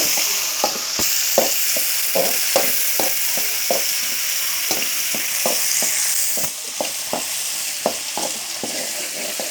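Onions fry in hot oil, a continuous sizzle broken by regular scraping strokes of a spoon stirring the pan, close and fairly loud.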